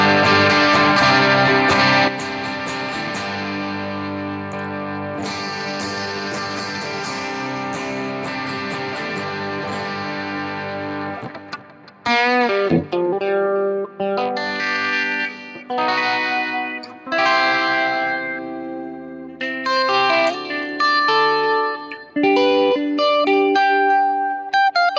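An electric guitar played through a Line 6 Helix amp modeler, first sustained chords heavy with effects, then a looser run of picked notes and phrases with reverb and chorus shimmer, close and loud, no talking.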